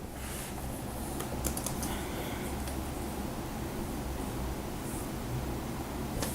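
Fast, light key clicks from typing on an HP Omen laptop keyboard, steady and close over a constant background hiss, with no voices.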